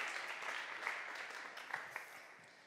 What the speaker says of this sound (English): We should give a round of applause to our final fishbowl contributors.